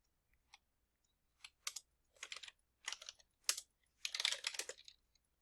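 Bursts of keystrokes on a computer keyboard as Java code is entered, quiet clicking clusters with short pauses between, close and clear with no talking.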